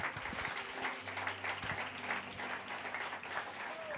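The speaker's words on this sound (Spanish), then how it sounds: "Aplausos para Él de parte de alguien que lo crea esta mañana." A church congregation at IPUC Calima in Cali claps together during a Sunday morning service, a steady, fairly soft wash of applause with a low sustained tone beneath it.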